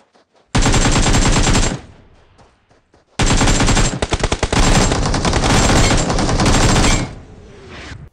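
Automatic gunfire in a mobile squad shooter video game, two loud sustained bursts of rapid shots, the second long and stuttering, close and alone with no talk.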